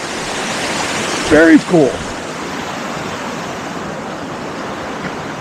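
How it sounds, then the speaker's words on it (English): A small brook rushes steadily beneath a trail bridge on a mountain hiking path, a constant close watery hiss that fills the scene, with someone briefly speaking over it partway through. "Got a nice little brook going through here."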